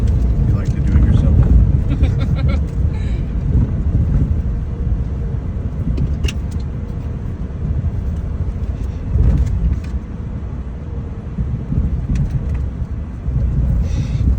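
A Ford Maverick AWD FX4 pickup climbs a sand dune hill at Oceano Dunes, its engine rumbling heavily and continuously under load inside the cab, with muffled voices mixed in.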